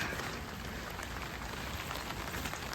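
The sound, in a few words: heavy rain falling during okra harvest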